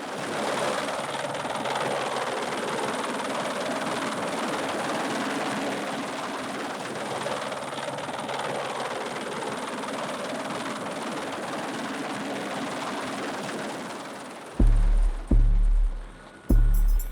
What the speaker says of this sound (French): L'hélico se met à la verticale du bateau à pleine vitesse.